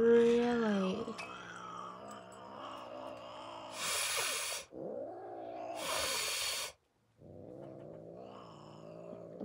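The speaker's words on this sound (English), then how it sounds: "Give me one more hiss" A pet cat hisses in two broad bursts of noise, each lasting under a second, between close, high-pitched talk from a person nearby.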